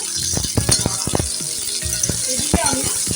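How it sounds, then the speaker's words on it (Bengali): Okra (bhindi) frying in a pan gives a steady close sizzle, broken by clinks and rattles of a utensil stirring against the pan. "ভিন্ডিটা আমার ভাজা হচ্ছে"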